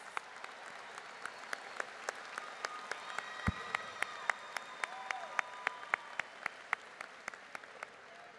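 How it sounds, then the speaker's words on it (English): Audience applause at a spring university commencement ceremony, a steady rhythm of clapping with distinct sharp individual claps standing out over the crowd across the whole stretch. "Please join me in showing our appreciation with a round of applause for their efforts."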